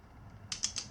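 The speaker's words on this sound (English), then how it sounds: "I got my torque wrench set around for what's the word? About 40 inch-pounds." Torque wrench set to about 40 inch-pounds tightening bolts on a Sur Ron Light Bee stem riser, giving about four quick, crisp ratcheting clicks close up after a quiet start.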